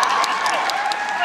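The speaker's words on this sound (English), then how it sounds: "you get a cheer just for saying TARDIS" A fan convention crowd at Fan Expo Vancouver claps and cheers in a short, loud burst that fills the room, steady for about a second with no clear break.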